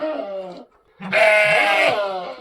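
Goats at a rural homestay bleat close by: a short call, a brief pause, then a longer, louder, wavering bleat.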